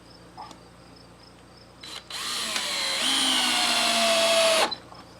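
A power drill drives a screw to bolt a plate on during a barn project, whirring loud and steady for about two and a half seconds after a short trigger blip, then stopping abruptly.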